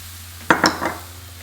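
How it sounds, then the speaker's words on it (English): A spoon stirs sauce into a butter and flour roux in a frying pan for a chicken pie lasagna, giving three quick scraping clinks close by over a quiet background hum. "I'm going to add my sauce bit by bit."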